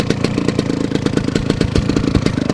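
A 1970 Suzuki TS250-II Savage two-stroke motorcycle idles up close, its loud, steady, rapid popping putter carrying a slightly uneven clattery rhythm with no one talking.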